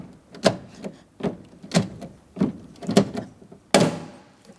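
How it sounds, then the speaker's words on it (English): A rivet being set into the rear interior door handle of a 2004-2008 Pontiac Grand Prix, heard as a close series of sharp clicking thunks at a steady pace, the last one the loudest. "Go ahead and install that rivet."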